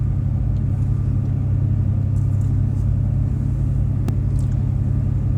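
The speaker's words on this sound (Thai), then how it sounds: "ตอนนี้เรือขนส่ง รถยนต์นะคะ แล้วก็ ขนส่งผู้โดยสาร เคลื่อนตัวออกอีกฝั่งหนึ่งนะคะ" A car ferry departs Gräsö for Öregrund, giving a steady, loud low engine rumble with a faint mechanical drone, one brief sharp knock near the end, and no voices.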